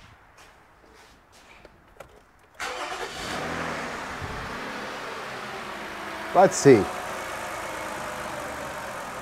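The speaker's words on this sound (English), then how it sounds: "So let me start the car real quick." A 15-year-old Toyota car with over 200,000 miles cranks and fires up after a quiet moment, then settles into a steady, fairly loud idle that runs to the end, with a brief spoken remark at the start.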